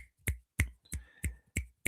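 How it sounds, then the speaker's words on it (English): Six sharp finger snaps at an even, unhurried beat, each a crisp close click standing alone with a little faint voice activity between them, in a casual podcast-style conversation. "Should we do the finger snaps?"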